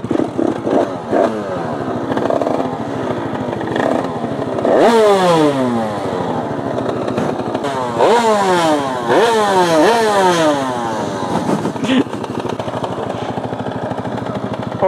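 A Yamaha YZF 125 four-stroke motorcycle idles close by, then its engine is revved hard several times, each sharp rise in pitch falling back to a rattly idle.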